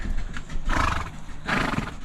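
A horse whinnies twice during a ride along steep mountain terrain in the coffee mountains near Medellín, Colombia, with loud, close neighs rising over a steady rustle and faint plodding of hooves.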